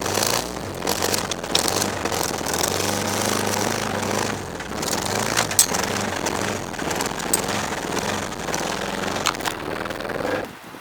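The engine of a 1997 Geo Prizm being restarted and running roughly, a rattling, uneven idle with crackles and knocks, heard close without talk.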